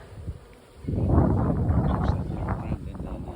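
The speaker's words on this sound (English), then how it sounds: "we've got a bee swarm that are swarming on this bin" A honey bee swarm massing on a bin in Shaldon, Devon, makes a dense, steady buzzing that swells up close and holds, with someone speaking briefly over it.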